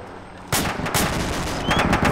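Arma 2 military game gunfire, a sudden sustained barrage of rapid automatic shots and overlapping reports that starts abruptly and carries on loud and dense to the end.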